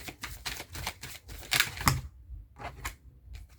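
Light taps and soft slaps of tarot cards being laid down on a table, a series of quick near contacts with short pauses between, faint and close.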